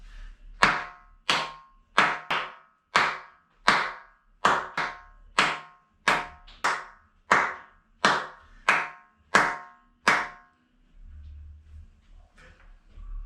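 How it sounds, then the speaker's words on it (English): Single sharp hand claps in a room being fitted with homemade acoustic panels, about thirteen evenly spaced strikes, each followed by a short decaying tail, then a quiet pause with faint low rumble. "I'll put one clap next to the other in the edit so we can make a comparison"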